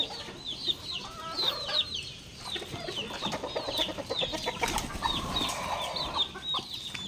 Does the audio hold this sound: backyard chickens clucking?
yes